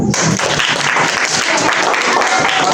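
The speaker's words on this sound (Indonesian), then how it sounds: "tepuk tangan dulu" Students clap together in a digital classroom at MTsN 1 Kendari, a loud, continuous burst of applause with faint voices mixed underneath.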